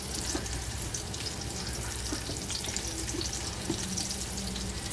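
Pork chops frying in hot oil give a dense, steady sizzle with scattered pops and spits, continuous and close throughout.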